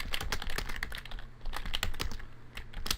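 Rapid clicking keystrokes on a computer keyboard, close and fairly quiet, in uneven bursts with short pauses and no talking.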